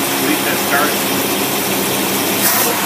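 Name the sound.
engine running with four-barrel carburetor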